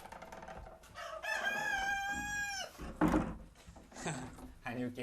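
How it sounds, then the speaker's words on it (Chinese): A rooster crows once, loud and close, with a long drawn-out call that is followed by clucking. Voices talk before and after it. "你现在听的公鸡叫也很有意思啊"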